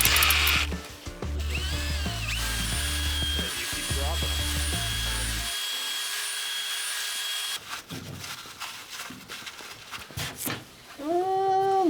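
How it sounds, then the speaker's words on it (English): A power drill spins a brake part from a 1964 Ford Fairlane during a brake rebuild, a steady whirring motor with grinding and rubbing, pausing briefly before starting again under loud workshop noise. "you just slide it back and forth while spinning it on a drill"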